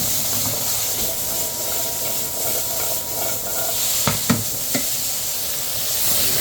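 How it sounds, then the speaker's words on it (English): Swede and parsnips sizzle and hiss in a hot pan for a beef stew, a steady frying crackle throughout, with a few sharp clinks of a utensil near the end. "now we're going to put the swede and parsnips in."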